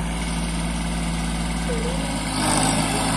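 A Kubota 211N tractor fitted with a rotavator sits with its engine idling in a steady low rumble, loud and close, swelling slightly near the end.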